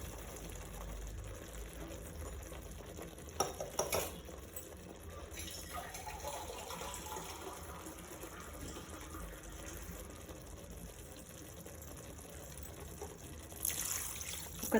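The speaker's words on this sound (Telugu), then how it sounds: "ఒక 3 glasses ఆఫ్ వాటర్ పోస్తున్నా నేను." Water is poured steadily into a Kadaknath chicken curry, the Indian black-fleshed breed, making a continuous, fairly faint rushing gush over about fifteen seconds, with a couple of louder splashy moments.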